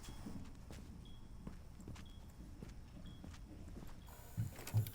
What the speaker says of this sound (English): you do hear the footsteps from above